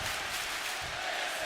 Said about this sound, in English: You can hear the Hotlanta, Georgia crowd on their feet.